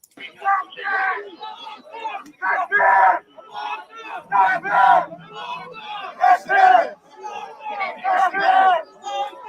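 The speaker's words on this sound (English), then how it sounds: "They're chanting Allah Akbar and throwing rocks at us and talking about hanging me." A protest crowd shouts rhythmic chants of Allah Akbar in repeated loud bursts. Many voices yell together at close range, with brief pauses between the chant phrases.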